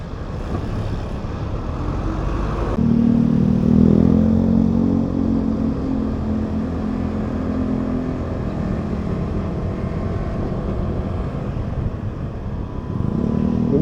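Motorcycle engine droning steadily while riding through city streets at the Mandaluyong–Makati boundary, a loud continuous rumble with a brief swell in revs partway through, carried alongside wind and traffic noise.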